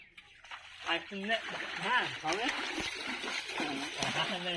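Fish being released into a pond splash and slosh in the water, with trickling and gurgling throughout while people talk over it.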